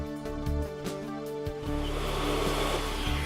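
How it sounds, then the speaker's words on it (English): Hot air welding gun heat-welding a Resitrix corner patch of roofing membrane on a flat roof: a steady blowing whir with a tonal motor hum, gaining a rougher, louder airy rush about halfway through. "Heat weld the Resitrix corner patch."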